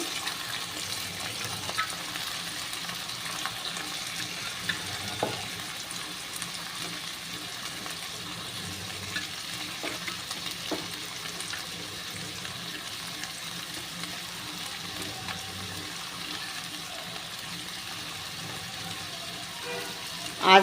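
Cut Malabar spinach stems, beetroot and carrot with slit green chillies fry in a pan. A steady, soft sizzle continues throughout, with occasional light clinks of stirring.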